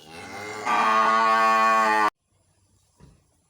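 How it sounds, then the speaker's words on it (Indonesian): A cow being fattened for sacrifice at a farm in Wonosalam, Jombang, East Java, lets out one long, loud, close moo that swells and cuts off, followed by near silence and a faint thump. "Penggembukan sapi kurban. Sapi Sapi untuk hewan kurban."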